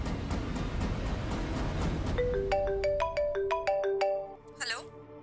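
A phone ringtone plays a series of bright, repeating electronic tones, entering after a few seconds of busy background noise and continuing steadily before fading, in a Hindi TV serial scene.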